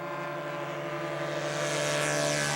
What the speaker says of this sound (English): Well, we got a otter taking off now. Bush plane.